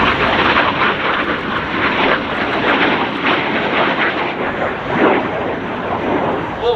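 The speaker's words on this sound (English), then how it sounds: "this big silver airplane approaching from the left. That is a B-29." A silver B-29 four-engine bomber flies past, a loud, steady, broadband engine roar that fills the whole stretch with only slight swells as it passes, with no talk over it.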